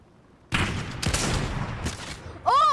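Gunfire in a video game while shooting at a llama: a quick burst of several sharp shots close together, loud and close, followed by a short electronic game tone.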